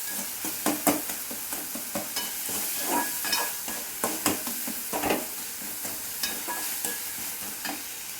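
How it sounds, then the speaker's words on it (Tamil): Tomato and onion frying in a pan are stirred repeatedly, a rhythmic series of scraping utensil strokes over a constant sizzle, close and fairly quiet, with no one speaking. "இப்போ தக்காளி வெங்காயத்தை நல்லா கிண்டி விட்டுக்கலாம்."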